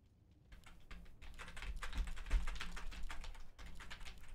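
Steady fast typing on a computer keyboard during a Warcraft 3 Reforged match, close and clear with a busy run of keystrokes and a brief pause near the end, no voices.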